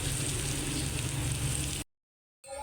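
Ginger and shrimp paste sizzle loudly in hot frying oil, a dense, steady crackle that cuts off abruptly into silence and then briefly resumes.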